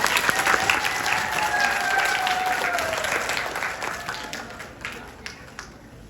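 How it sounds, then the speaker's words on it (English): Applause for first and third grade students at a school pinning ceremony, a full round of clapping from the audience with a few cheers and whistles, loud at first then gradually fading toward the end. "Let's give these students a round of applause."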